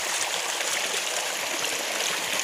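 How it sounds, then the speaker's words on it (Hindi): Water rushes steadily through a small, clear village river, a dense, even wash of flowing and trickling noise that stays constant throughout with no voices on top. "छोटी सी नदी है।"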